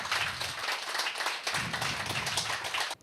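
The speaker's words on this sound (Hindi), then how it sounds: "जोरदार तालियां बजाएं जरा भाई साहब, जोरदार तालियां बजाएं।" A crowd at a health seminar claps hard and fast in a continuous, dense patter that is close and energetic, then cuts off abruptly at the end.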